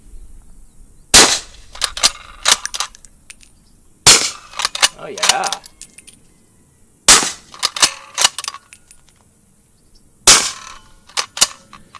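Four sharp shots from a prototype 300 Blackout rifle fitted with a Dead Air Primal suppressor at an outdoor range, evenly spaced about three seconds apart, each followed by mechanical clatter and brief echo.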